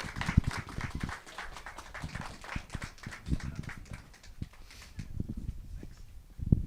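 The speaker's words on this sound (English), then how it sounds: "So can we all give him a round of applause?" A small audience applauds a speaker at a historical district plaque unveiling, with scattered, uneven claps that rise and thin out over several seconds.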